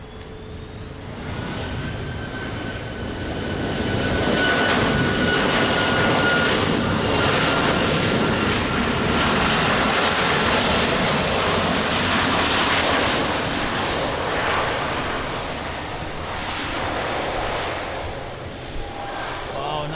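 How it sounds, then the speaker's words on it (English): Airliner landing at Lisbon Airport in rain and wind, a loud jet engine roar that swells to a peak midway, holds, then eases slightly as the aircraft passes, with faint voices talking in the background. "Wow, nice landing, what a sound."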